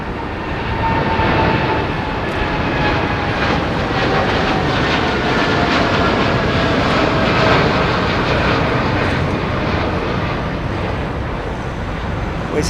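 A heavy WestJet airliner at London Heathrow Airport roars steadily, a broad, loud engine rumble with a faint whining tone, sustained and fairly near for the whole stretch.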